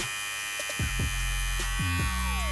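A steady electric buzz of hair clippers running, with a low motor hum and a few faint clicks, continuous and fairly quiet throughout.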